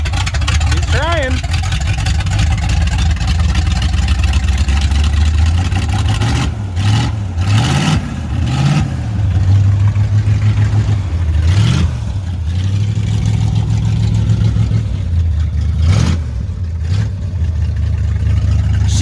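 A cheap small block Chevy V8 fires up and keeps running loud and close, a steady rough idle that rises in several revving swells, with people talking over the engine.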